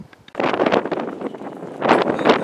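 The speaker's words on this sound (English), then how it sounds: "As I was saying about it being very, very windy here recently" Strong winter wind blows outdoors in a cold northern place, roaring in uneven gusts that buffet the microphone, easing briefly midway and then swelling loud again.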